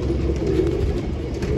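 Desi pigeons kept by a longtime fancier in Nashik give a low, soft cooing that murmurs steadily through a short stretch, fairly close.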